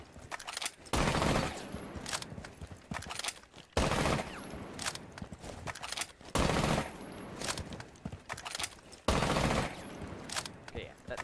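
Sustained SMG-11 bursts in a first-person shooter game, rapid automatic gunfire in four long strings separated by short pauses, loud and close, with a voice talking at times between the bursts.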